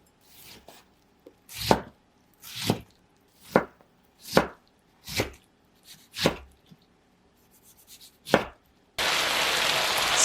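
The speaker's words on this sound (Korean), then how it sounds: "토마토 2개는 적당히 작은 크기로 써세요" A knife chops two tomatoes into small pieces on a cutting board, striking in about seven distinct, fairly evenly spaced knocks, followed by a burst of steady noise at the end.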